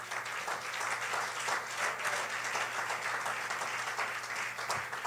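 A church congregation applauds steadily and fairly loudly for the whole stretch, a dense even wash of many hands clapping.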